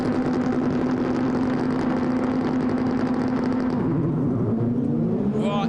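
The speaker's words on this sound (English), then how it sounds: "you heard almost every car bog" Rallycross cars sit in a loud, dense wall of engine noise on the start grid at a World RX round in Great Britain, then the roar drops and sags as the engines bog at the launch.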